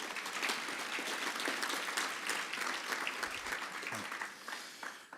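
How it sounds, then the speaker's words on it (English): A conference audience at a gun rights policy session breaks into sustained applause, dense clapping from many hands filling the whole stretch before tapering slightly at the end. "Let's give them a round of applause because they don't get enough thanks."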